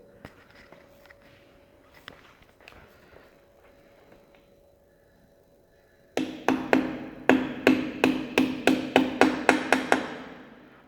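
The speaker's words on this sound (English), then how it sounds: "Now it is showing the indication where exactly you need to hammer the weights." A hammer taps balancing weights onto a car wheel on a wheel balancer: after a quiet stretch, about a dozen sharp metallic strikes fall in a steady, even rhythm, loud and close.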